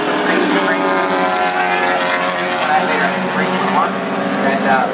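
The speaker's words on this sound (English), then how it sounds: "That is a fast car." A 3.1 litre L28-engined race car at a Grand Prix meeting sweeps past, its engine a loud sustained harmonic roar that rises and shifts in pitch over five seconds, with a voice talking across it.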